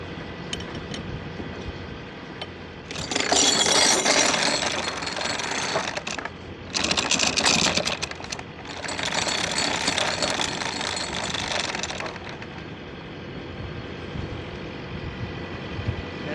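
Boat anchor chain paying out as a Vision anchor launches itself from the bow, a loud rattling run in three bursts over a steady engine hum.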